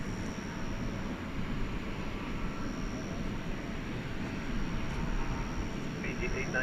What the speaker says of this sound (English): heavy Airbus, departure roll, runway 18 left